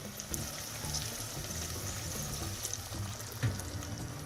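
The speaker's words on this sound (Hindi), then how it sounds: "अब हम इस स्टेज पे शामिल कर देंगे इसके अंदर थोड़ा सा पानी।" Water pours into a pan of potatoes and peas frying for aloo matar salan, giving a steady hissing sizzle with a trickling wash that runs evenly throughout at moderate loudness.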